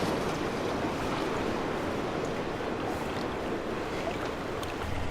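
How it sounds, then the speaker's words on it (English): A continuous broad rush of falling water in the video game Farming Simulator 15, steady and fairly soft, like a distant waterfall, with no voices. "Sounds like there's a waterfall somewhere."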